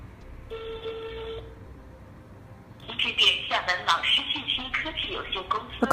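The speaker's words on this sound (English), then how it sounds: "Now use a mobile phone to dial the trunk's number." A mobile phone call to a VoIP PBX trunk gives a short ringback tone, a brief pause, then the answered line plays a recorded voice prompt.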